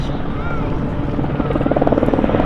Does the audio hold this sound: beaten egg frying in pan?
no